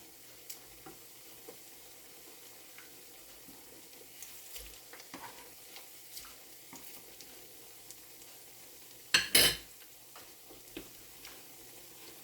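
Patties frying on low gas in a pan until brown. A quiet, steady sizzle with faint ticks and small crackles runs throughout, and one brief louder clatter or stir sounds near the end.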